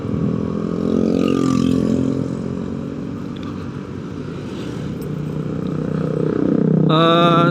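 A touring motorcycle's engine drones steadily on a solo ride from Cirebon toward Dieng, climbing the Krakalan slopes in rain, with wind rush and a brief tonal honk near the end.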